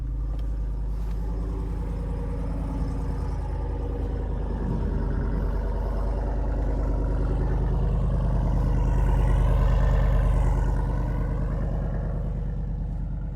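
A 2024 Jeep Wrangler Rubicon 392 Final Edition with a Hemi V8 idles with a deep, steady exhaust rumble, swelling briefly as it revs up, close and loud throughout.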